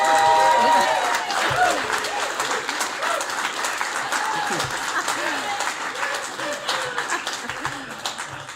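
Steady crowd applause runs throughout, fairly loud and even, while people talk over it with overlapping voices.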